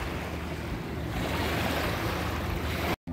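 Waves wash steadily along the Volga riverbank in summer, a continuous broadband rush with wind buffeting the microphone, loud and close throughout before a brief dropout near the end.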